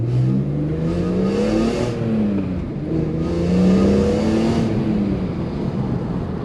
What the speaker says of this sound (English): Jethro has been so kind to let me drive his M3